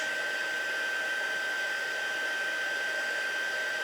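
A heat tool blows hot air to melt embossing powder on paper, giving a steady, loud fan roar with a constant thin whine running through it, unbroken for the whole stretch.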